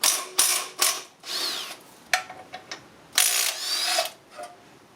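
A flywheel being unbolted from a 4.1 litre six cylinder crossflow engine during a teardown, with sharp bursts of ratchet and impact-tool clatter separated by short pauses, close and loud.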